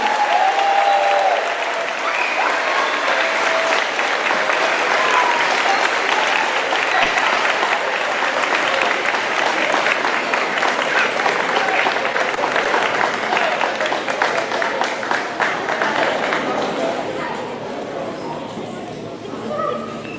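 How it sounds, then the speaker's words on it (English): A school awards ceremony crowd gives a long, loud round of applause for students, a dense sustained clapping that holds steady for most of its length before gradually thinning and fading near the end. "let's go around of applause for all these students for all their hard work"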